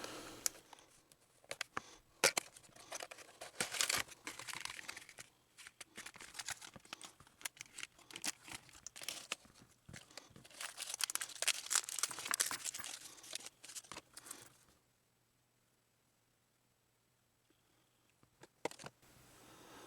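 Packaging for new chrome locking guitar tuners for a Fender Telecaster crinkles, tears and rustles close by in bursts of varying loudness. The handling then falls quiet, and one last rustle comes near the end.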